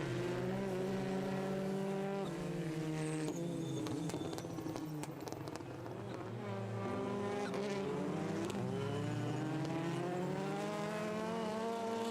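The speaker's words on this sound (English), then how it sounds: "Black Hyundai and black and red Cupra Leon fighting through the opening chicane." Hyundai and Cupra Leon TCR touring cars race through the opening chicane at Most, their engines loud and continuous, rising and falling through gear changes as they battle for the lead.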